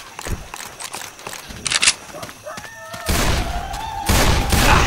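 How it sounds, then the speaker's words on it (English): Rapid gunfire from Left 4 Dead 2, a zombie co-op shooter, with bursts of shots crackling across the scene, growing into louder, sustained firing near the end. "Can we stop shooting each other?"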